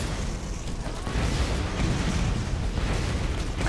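Dense, continuous roar of explosions and booming blasts from Borderlands vehicle combat, loud and sustained without pause.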